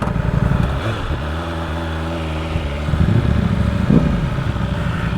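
A BMW S1000RR sport motorcycle engine runs steadily underway on a ride to a bike meet in Orange County, a loud droning hum with a brief swell in revs near the end.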